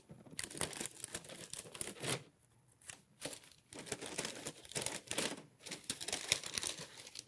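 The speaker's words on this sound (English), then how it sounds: "You can even fold it like a gift box here to make sure no air is escaping out of the" Wrapping material on a greenhouse heat demonstration is folded like a gift box, producing close, repeated crinkling and crumpling bursts with brief quiet gaps between handfuls of the material.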